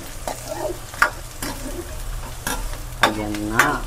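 Onions and garlic sizzle in hot oil in a pan, with a soft continuous frying hiss broken by several sharp scraping clatters of a utensil stirring, close and clear with no talking.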